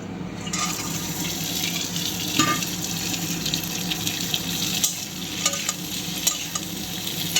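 Cut yardlong beans fry in hot oil with black cumin and a little whole cumin, giving a steady close sizzle with intermittent clinks and stirring scrapes throughout, no voices.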